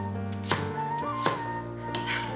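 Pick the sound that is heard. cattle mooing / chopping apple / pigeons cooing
chopping apple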